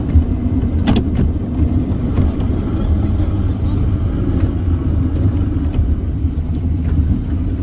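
Small Honda motorcycle riding down a steep, rough hill, giving a steady low engine rumble throughout with a few brief clicks and rattles over the top; no speech.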